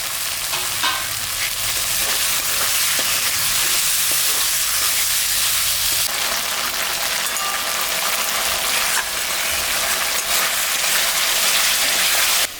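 Spice paste with tomato and green chillies fries hard in a pan for a pangas fish curry, a loud, dense, continuous hiss and crackle with scraping stirs, no voices.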